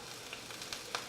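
Chopped garlic sizzles in a hot pan as it is swirled around, a soft steady hiss with a few faint crackles, brief and quiet.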